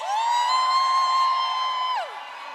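At a Thai church gathering, a single loud, high-pitched scream is held steadily for about two seconds, then drops away sharply at the end.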